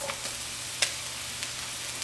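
Mushrooms stir-frying in olive oil give a quiet, steady sizzle through a short stretch, with a few small crackling pops.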